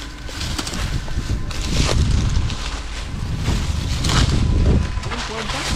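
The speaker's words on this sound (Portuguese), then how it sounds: "Foda é o vento, velho. O vento atrapalha, né? Atrapalha, mano. Tá muito forte o vento." Strong wind blows outdoors at night, a loud, continuous rushing roar that buffets the microphone and swells and eases in gusts throughout.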